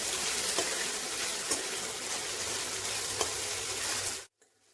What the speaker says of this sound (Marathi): 2 ते 3 मिनिटं छान परतवायचं आहे।